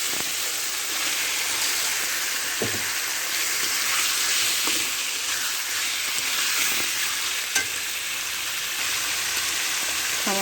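Magur catfish frying in hot oil in a pan, with a steady loud sizzle and occasional stirring scrapes throughout, no voices.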